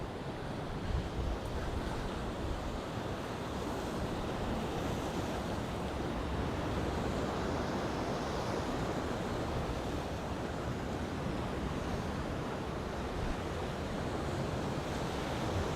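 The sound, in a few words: waves crashing against rocks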